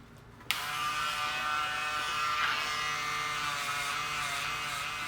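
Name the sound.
Wahl 5-Star shaver electric razor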